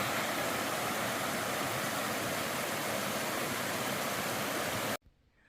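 A waterfall and river along the Appalachian Trail rush in a loud, unbroken broadband hiss close by, steady for about five seconds before cutting off abruptly.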